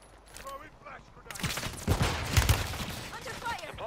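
Gunfire in the video game Warzone, a burst of rapid shots from about the midpoint onward, loud and close, with scattered game sounds and speech around it.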